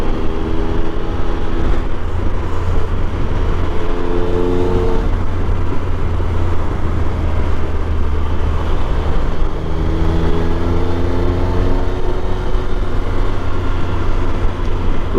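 Steady, loud motorbike engine drone while riding an adventure bike on Lake District roads, with rising and falling pitch as it accelerates and shifts, continuous throughout amid wind rush.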